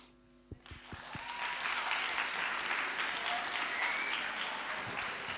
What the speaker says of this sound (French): Donc, un applaudissement à vous.